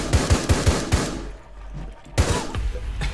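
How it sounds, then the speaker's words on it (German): Gunfire in Rainbow Six Siege: a rapid burst of loud, punchy shots, a short pause, then another quick volley, all close and booming with no talk over it. "Ich hab genau auf dich geschossen,"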